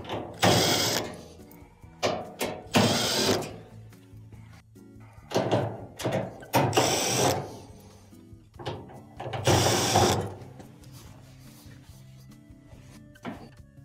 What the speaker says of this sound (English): Then we have multiple Phillips screws on the bulkhead to take it out.